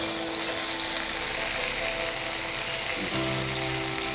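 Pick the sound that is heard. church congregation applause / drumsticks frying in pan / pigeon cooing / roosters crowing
drumsticks frying in pan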